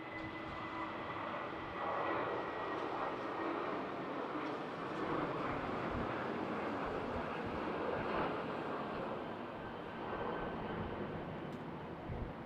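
Boeing 737-700 landing on Schiphol runway 18R in winter: a steady, broad jet roar with a faint whining tone, heard at a distance and sustained throughout with little change in loudness.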